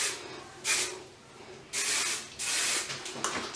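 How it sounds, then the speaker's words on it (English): Hairspray from an aerosol can is sprayed onto curled hair in three short, close hissing bursts, the last one longest, with quiet pauses between them. "I'll just add a little more hairspray because my hair"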